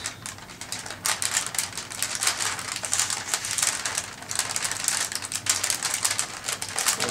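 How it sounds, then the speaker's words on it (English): Origami paper being creased by thumb along a diagonal fold, heard as a close, steady stream of crisp rustling and scratchy friction bursts with no voice over it. "Creasing that diagonal edge with my thumb."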